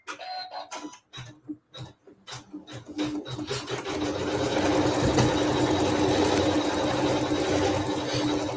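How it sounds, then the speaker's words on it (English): A sewing machine stitches quilting into the center of a flower quilt block, starting with a few short bursts and then settling into a steady, continuous mechanical whirring close by. "this will sew some quilting right in the center of our cute little flower"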